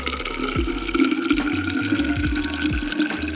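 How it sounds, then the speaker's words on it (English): Liquid poured slowly into a bottle without a funnel, a steady close trickle and gurgle running throughout with a few low bumps. "we're just gonna slowly pour it in there"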